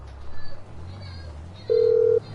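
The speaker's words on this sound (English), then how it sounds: "one of the quickest ways to get anywhere is actually phone a cab" A phone in Grand Theft Auto V dials a cab: a single steady electronic tone sounds near the end, briefly over a low hum of game background.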